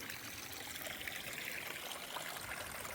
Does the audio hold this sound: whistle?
no